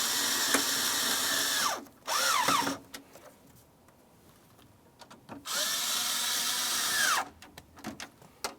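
Power drill driving mounting screws into a vent mode actuator on a 2000-2005 Buick LeSabre, with loud whirring bursts that ramp down in pitch as each screw seats, separated by short pauses.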